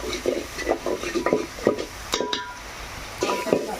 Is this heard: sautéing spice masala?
yes